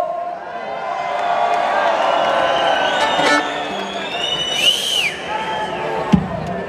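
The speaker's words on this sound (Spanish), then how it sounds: "Dale un aplauso también" A dense crowd at a concert in Vigo, 2018, cheers and claps steadily, with scattered whistles and shouts rising above the roar and a sharp thump near the end.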